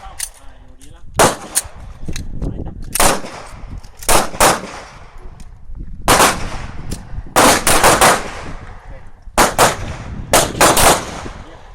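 Bursts of rapid gunfire from a live-fire shooting drill with a magazine-change exercise, loud and close, coming in clusters of quick repeated shots separated by short pauses.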